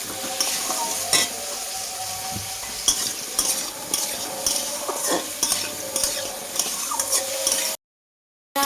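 Vegetables with turmeric are stirred in a pan, with eggplant among them, for a vegetarian shukto. Steady sizzling frying carries scraping spatula strokes against the pan, close and continuous, then stops abruptly near the end.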